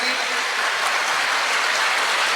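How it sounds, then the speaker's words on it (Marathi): Students in an audience applauding at a school gathering, a steady, dense wash of clapping that stays loud and even for the whole stretch. "टाळ्या जोरदार होत्या वायकोस सरांसाठी."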